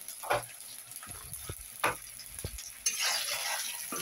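Chopped onion and green chili fry in a pan, a soft sizzle punctuated by a few sharp clinks and scrapes of a utensil, the hiss swelling louder toward the end.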